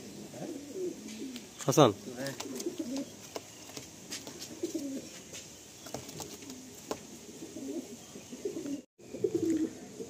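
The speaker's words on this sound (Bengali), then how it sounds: "দুটো ফিমেল পায়রা দেখুন" Female Madrasi pigeons coo softly in a loft, low rolling calls that recur amid scattered shuffling and light tapping, with someone briefly speaking nearby.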